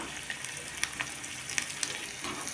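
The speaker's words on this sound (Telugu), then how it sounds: "ఇప్పుడు ఈ తాలింపు అంతా లైట్గా వేగాలి" Spices crackle and sizzle in hot oil, with scattered sharp pops over a steady frying hiss, tempering with small onions and asafoetida for gongura pickle.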